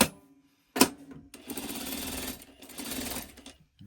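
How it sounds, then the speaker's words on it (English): A sewing machine stitches along the bottom edge of a Christmas tree quilt block, a short burst followed by two longer steady runs of fast mechanical whirring, close and clear with no talking. "I'm going to stitch along the bottom edge."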